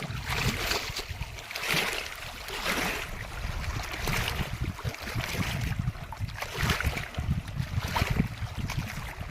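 Strong wind blows outdoors beside a large dam reservoir, a loud, rushing roar with repeated gusty surges and low buffeting rumble throughout.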